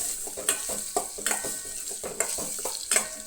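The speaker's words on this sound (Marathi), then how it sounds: "आतां हांगसर न्हय शाबू तांदूळ घाला. हे सगळे हांगसर बरें मिक्स करून घेयात." Sabudana and rice are stirred together in a hot pan for sabudana khichdi: quick, rhythmic scraping strokes repeat about twice a second over a bright, continuous sizzle, close up and without speech.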